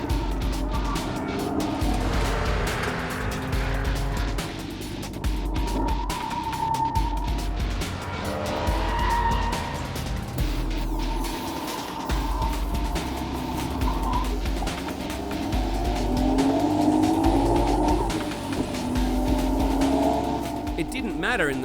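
An RB26-engined budget supercar with a stock internal engine running about 15 psi of boost laps a wet race track. A revving engine rises and falls, tyres squeal at times, and a voice talks over it throughout.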